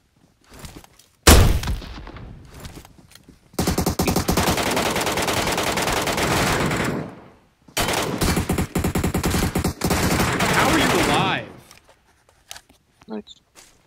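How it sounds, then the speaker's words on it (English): Video game gunfire from a marksman rifle loaded with explosive ammo rattles in two long, loud, rapid bursts separated by a short gap, with a sharp shot and scattered thumps around them. "I got a headshot on him with explosive MK ammo"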